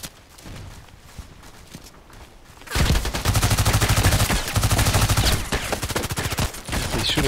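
Rapid bursts of submachine-gun fire in the online shooter Contract Wars, a PDR-C SMG on the Evac map, start after a quiet stretch and then hammer on loud and steady in close automatic volleys.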